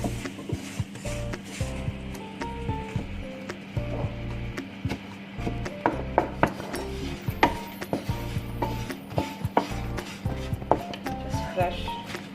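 Jaggery being crushed for a Christmas plum cake, heard as a close run of repeated knocks, cracks and grinding crunches in an uneven rhythm, loud and unbroken with no voices.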